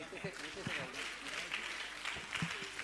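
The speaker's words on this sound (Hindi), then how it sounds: "ताली बजाइए अच्छे से।" Audience applause at a Jain religious gathering, a steady wash of clapping running beneath a voice as he keeps talking over it.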